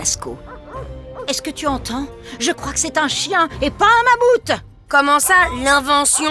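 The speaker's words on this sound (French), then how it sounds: "Je crois que c'est un chien et pas un mammouth." A dog barks in repeated yelping bursts near the Lascaux cave, mixed in with close conversation between people.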